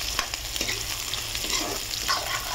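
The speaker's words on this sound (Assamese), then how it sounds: "পিঁয়াজখিনি একেবাৰে ভাজি থাকক" Onions sizzling in hot oil while being stirred in a pan, a continuous close crackle with spatula scrapes and soft knocks every fraction of a second.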